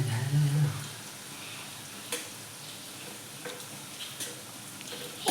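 Food frying in a pan over a village cooking fire, a steady soft sizzle with occasional scrapes as it is stirred round, close and moderate, with a brief low hum at the start.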